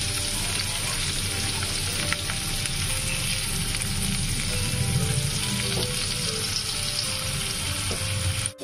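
Onions sizzle steadily as they fry in a pan, with faint scraping from stirring and a continuous broadband hiss throughout, no talk.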